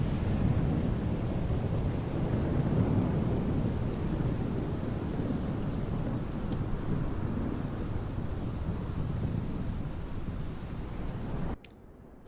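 Steady rain with low rumbling thunder over Bastia-Poretta airport in Microsoft Flight Simulator 2020, a dense continuous wash of sound that holds evenly for about eleven seconds before cutting off abruptly.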